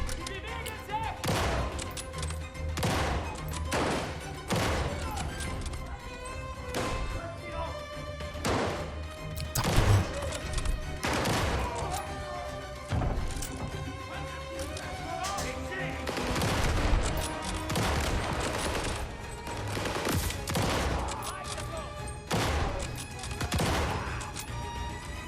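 Rapid bursts of gunfire from a weapon in a Call of Duty shooter, repeated loud shots and volleys spread across the whole stretch with short gaps, close and dominant, with brief talk mixed in.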